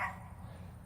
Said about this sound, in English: that's the neighbor's dog, Sadie